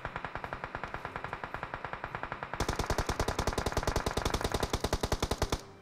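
Rapid automatic gunfire in the mobile game PUBG Mobile, two long bursts of evenly spaced sharp shots, the second burst closer and louder, fired alone with no talk.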